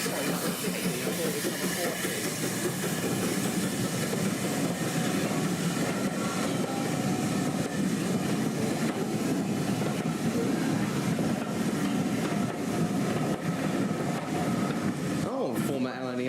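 A former LNER railway coach rolls past with a continuous rumbling clatter and airy hiss of wheels on track, fairly close, while a voice talks over it.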